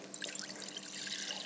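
Cold bottled water poured steadily into a container for a cucumber pickle marinade, a continuous close splashing trickle lasting throughout with no talk.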